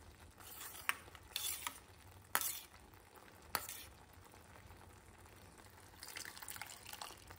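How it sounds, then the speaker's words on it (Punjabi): A spoon stirs a few spoonfuls of gravy into milk for a dhaba-style methi matar malai curry, giving faint swishing with a few sharp clinks against the bowl, quiet and without talk. "ਆਪਾਂ ਦੋ ਤਿੰਨ ਚਮਚੇ ਗ੍ਰੇਵੀ ਦੇ ਲੈ ਲੈਣੇ ਆ, ਦੁੱਧ ਦੇ ਵਿੱਚ ਚੰਗੇ ਤਰੀਕੇ ਦੇ ਨਾਲ ਮਿਲਾ ਲੈਣੇ ਆ"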